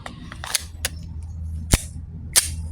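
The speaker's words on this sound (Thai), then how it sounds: "ทดสอบยิงนะครับ ด้านนะครับ อ่า ยิงได้ปกตินะครับ" Test firing of an Umarex Glock 17 Gen5 blank pistol: a few sharp, loud cracks spaced irregularly over a low steady background hum.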